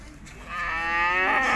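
A single cow or calf moos at a livestock market, one drawn-out bellow rising in strength and held for about a second, fairly close.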